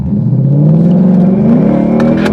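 A Ford Mustang with a straight-through exhaust revs hard and rises in pitch, a loud, strained whine with a rough rumble underneath, building steadily over a couple of seconds.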